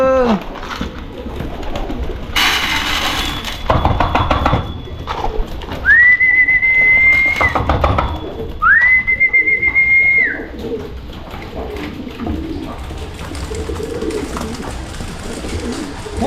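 Pigeons in an aviary, a male chasing a hen, give soft cooing calls amid broadband rustling and shuffling, with two longer sustained call sounds in the middle; close and fairly loud, no talk.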